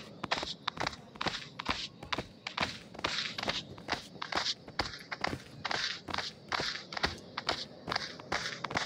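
Quick, steady footsteps walk along in a continuous brisk rhythm, each step distinct and fairly close, with no talk over them.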